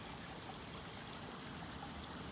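A steady stream of water trickles and splashes into a koi pond, a constant faint wash of noise with no voices over it.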